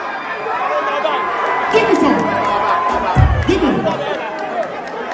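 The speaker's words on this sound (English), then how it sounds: "He got the crowd going crazy for him on this one" Crowd noise at a Shatta Wale versus Stonebwoy sound clash, a dense, steady roar of chatter and excited shouting with a couple of rising whoops standing out over the mass of voices.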